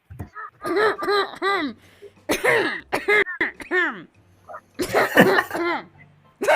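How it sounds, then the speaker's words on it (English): Several bursts of harsh, throaty coughing come in quick clusters with short pauses between, close and loud, mixed with wheezing breaths. "He starts coughing."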